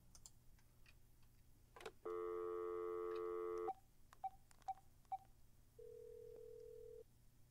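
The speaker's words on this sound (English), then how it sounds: "Gonna make a phone call." A telephone in the video game Dark Fracture: a few soft clicks, a long dual-tone dialing burst, several short beeps, then a steady single tone, all quiet and isolated.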